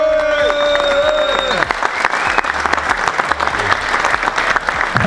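A crowd applauds the winner at a sea kayak fishing competition on the Île de Ré, steady close clapping beneath a voice talking at first, continuing loud and even throughout.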